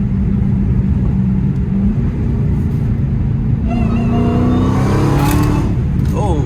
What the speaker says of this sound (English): Let me get some downshifts.